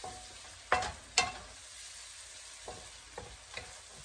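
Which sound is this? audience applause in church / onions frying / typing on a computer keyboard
onions frying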